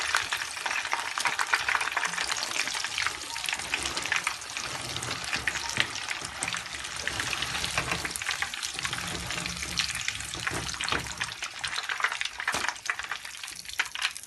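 Corn pieces fry in oil in a pan for a barbecue-style corn dish, a dense, steady crackling sizzle running close and loud throughout with no voices.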